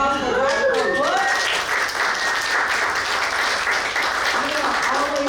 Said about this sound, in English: Round of applause for Black Pearl Books